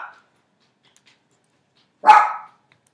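A dog gives a single sharp bark indoors after a short clipped sound at the start, the rest quiet and with no talking.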